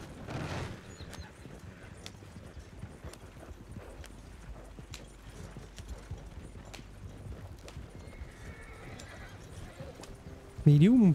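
Steady clip-clop of hooves with an occasional horse whinny, set in a busy game soundscape, with a voice talking over it.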